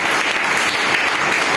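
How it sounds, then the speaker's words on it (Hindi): An audience at a Hindi poetry book launch and award ceremony claps in unison, a short, loud, continuous burst of applause with no talking. "इकट्ठी तालियां बजाएंगे तो सुंदर बजाएगा"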